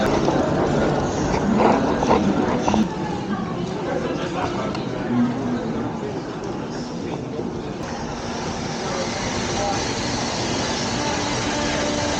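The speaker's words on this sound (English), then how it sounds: "And here's our train" Rumbling train noise fills a busy Italian station as a sleeper train arrives, with a low mechanical hum, background chatter and a brief squeal under occasional speech.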